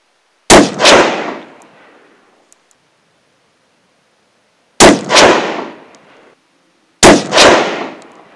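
Three loud rifle shots from a Tikka T3X in 7mm Rem Mag firing Remington Core-Lokt ammunition at an outdoor range, each a sharp double crack with a long fading echo, spaced several seconds apart.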